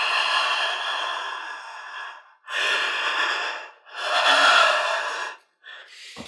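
Close, breathy inhales and exhales in three long bursts with short pauses between, then a brief final breath; intimate and near, with no talking.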